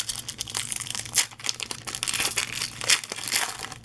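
A Pokémon Diamond & Pearl booster pack with Lucario cover art is torn open by hand, giving close crinkling and crackling foil wrapper sounds with a few sharp ripping bursts.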